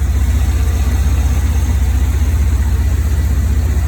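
A newly swapped 4.3 engine idles in an S10 Blazer, giving a steady, smooth low rumble that holds even and unbroken with no voices.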